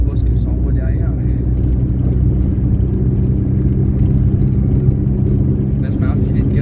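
A VW Golf 3 TD diesel engine with its turbo removed accelerates hard, a loud steady low rumble heard from inside the car, with faint talk over it.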